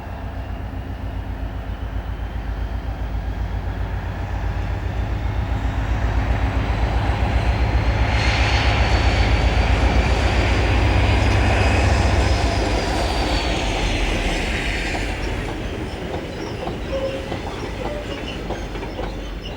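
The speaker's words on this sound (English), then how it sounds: "the 56 has been replaced and the log train resumes its journey" A log train hauled by a Class 56 diesel locomotive rumbles past, loud and close, its engine drone and rolling wagons swelling to a peak midway, then easing as it moves on.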